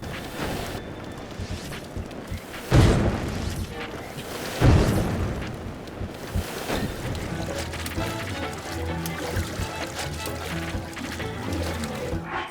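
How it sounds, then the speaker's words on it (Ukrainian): Enemy fire shots in The Legend of Zelda: Breath of the Wild, Trial of the Sword level 1, land as two heavy booming impacts, with watery, rumbling game sound continuing throughout. "намагаємося пропливти під вогняні постріли ворога"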